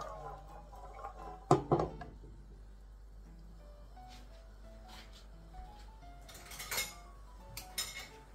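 Raw peanuts frying in a pan crackle faintly with small scattered pops, broken by a couple of sharper clinks like a utensil against metal, close by with no talking.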